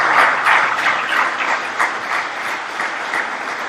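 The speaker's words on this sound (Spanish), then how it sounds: "Aplauso para Andrés y Sonia." A plenary session audience applauds, a dense burst of clapping with visible individual claps early on, loud and close, gradually thinning and fading over a few seconds.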